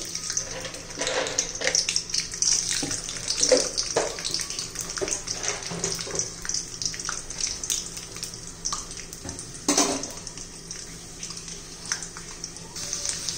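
Peanuts fry in hot oil for tomato-potato poha, giving a steady wet sizzle and crackle with scattered sharper pops over about thirteen seconds, close and fairly loud, with no talking.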